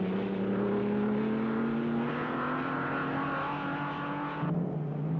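Fangio's race car pulls steadily out of the pits, its engine note rising smoothly in pitch as it accelerates, a loud continuous drone that steps down briefly near the end with a gear change.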